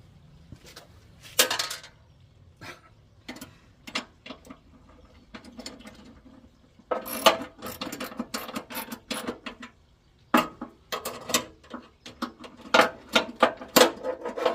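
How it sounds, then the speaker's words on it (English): A Phillips head screwdriver works screws into metal plates while relocating a license plate, giving bursts of clicking, ratcheting and scraping with short pauses between turns. "Phillips head screwdriver."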